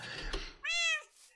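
A Minecraft cat lets out a single clear meow after a brief noisy rustle, the call rising then falling and stopping abruptly.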